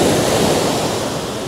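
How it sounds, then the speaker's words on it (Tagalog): Strong ocean waves at a resort beach in Botolan, Zambales, a steady loud wash of surf and rushing water filling the air with no break and no talking. "ang lakas ng alon ng tubig"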